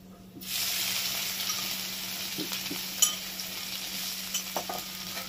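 Crushed ginger and garlic drop into hot oil in a pan and start frying, a steady close sizzle that begins abruptly and holds at an even level, with a few faint clinks of a utensil and no talk.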